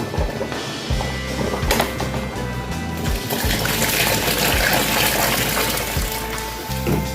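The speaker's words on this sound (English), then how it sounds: "I think I'm gonna put some more hot water in this" Hot water pours and splashes into a cooking pot of boiling chicken foot soup at close range, with intermittent clanks and knocks of cookware over a steady liquid rush.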